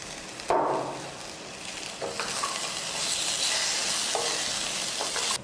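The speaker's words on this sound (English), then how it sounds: "Mix it and allow it to simmer and cook." Tomato and celery tipped into a hot pot for homemade bouillon, a sharp splash of sizzle at first, then a steady frying hiss with a few spoon scrapes as it is stirred.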